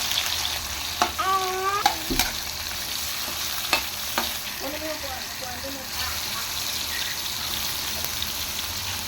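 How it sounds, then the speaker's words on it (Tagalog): Tomatoes fry in a little oil in a pot and get stirred, producing a constant sizzle with occasional scraping clicks of the spoon and faint voices in the background. "ilagay natin yung ano guys yung kamatis yan. Haluin lang natin konti guys."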